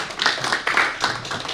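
Audience applause for a speaker being introduced at a Cricket Council USA event, a short burst of close, dense clapping lasting under two seconds.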